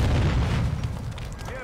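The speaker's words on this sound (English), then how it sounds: "Hostile airstrike near your location." An airstrike explosion in Call of Duty, a heavy low booming rumble that fills the short moment and slowly fades, with a voice faintly mixed in.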